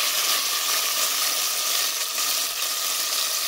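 Steady, crackling sizzle of an onion, mustard, lemon and pepper marinade mixture frying in hot oil for chicken yassa, constant and close with no voices.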